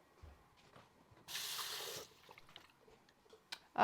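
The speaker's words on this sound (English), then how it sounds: "I'm going to add a little water to this" A small amount of water pours into a blender holding homemade granola ingredients: a brief, soft splash lasting under a second amid quiet kitchen handling sounds, with a faint clink near the end.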